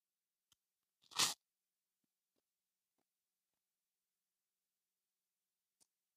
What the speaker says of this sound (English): let's give it a little crunch and see how the toast toasted